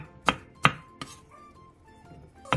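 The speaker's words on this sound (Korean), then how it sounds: "씻은 묵은지는 먹기 좋은 길이로 취향에 맞게 잘라주세요" Knife chopping washed aged kimchi on a cutting board, four distinct thuds at uneven intervals, close and crisp, with quiet gaps between cuts and no voices.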